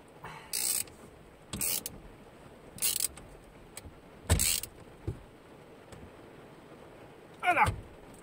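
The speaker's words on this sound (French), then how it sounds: "On serre bien fort parce que le volant ne doit pas bouger" A few short metallic ratcheting bursts from a wrench tightening a Nissan steering wheel bolt, spaced out with quiet gaps, close by in a quiet workshop.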